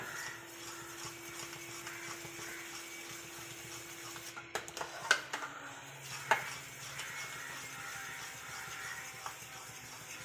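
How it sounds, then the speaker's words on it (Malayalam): A utensil scrapes and clinks against a pan while cornflour coffee pudding mixture is stirred over medium flame, with a soft steady background and a few louder metallic taps midway. "കോൺഫ്ലവറിൻ്റെ മിക്സ് ചേർത്താൽ പിന്നീട് കൈ എടുക്കാതെ തന്നെ ഇളക്കി കൊടുക്കണം"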